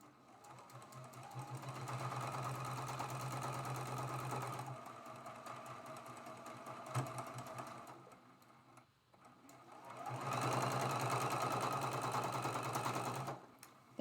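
Sewing machine running steadily as it stitches a quilt block seam, a sustained mechanical whir in two long bursts separated by a brief slower pause, close and fairly loud with no talking.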